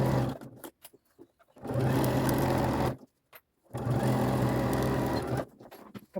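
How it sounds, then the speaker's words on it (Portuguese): A sewing machine stitches fabric for a zippered box pouch in two sustained, close bursts of rapid whirring, separated by pauses filled with handling and shuffling of the material. "continuo a costurar"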